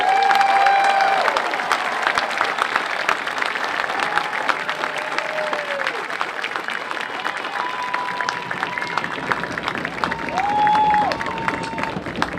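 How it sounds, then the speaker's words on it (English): Sustained audience applause at a high school graduation ceremony for the class of 2022, a dense steady wash of clapping lasting throughout with some cheering mixed in, fairly loud and continuous. "Let's have a round of applause, class of 2022."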